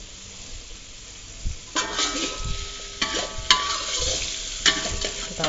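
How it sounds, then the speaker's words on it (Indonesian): Shallots and garlic stir-frying in hot oil in a pan for an Indonesian rice dish, a steady crackling sizzle with bursts as the mixture is stirred, close and alone with no talk. "Kompor dulu, kita panasin minyak, masukin bawang merah,"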